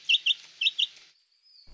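A hen gives four short, high, clucking calls in two quick pairs, fairly close and clear, followed by a faint trailing tone and a brief low bump at the end.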